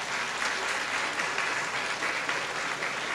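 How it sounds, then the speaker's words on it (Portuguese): An audience at an inaugural lecture applauds as a group takes the stage, sustained, even clapping heard at a moderate distance, fairly soft and continuous throughout. "Vamos recebê-los com palmas."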